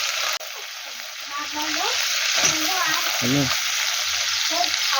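Potatoes tipped into hot oil for an Indian-style potato curry fry with a loud, steady sizzle and bubbling, with a brief clatter as they go in, close and continuous.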